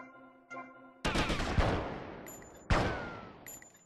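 Video game gunfire in GTA Vice City aimed at a ceiling: loud, close bursts of shots, with one heavy volley and a second sharp burst that ring out and decay, and no voices over them.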